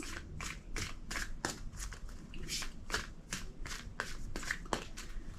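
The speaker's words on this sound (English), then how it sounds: "2 more shuffles." A deck of tarot cards is shuffled by hand in a quick rhythmic series of crisp riffling bursts, close and fairly soft, with no talking.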